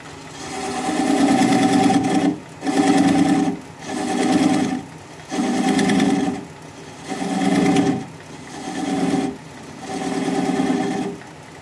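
Wood lathe turning a pedestal bowl with a bowl gouge at about 400 RPM, close and loud, with a rhythmic series of humming cutting passes, each broken by a brief gap.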